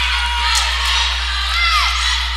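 Crowd cheering and whooping at a women's college basketball game between Andrew College and East Georgia College, a steady roar of many voices with a couple of rising whoops, sustained and fairly loud throughout.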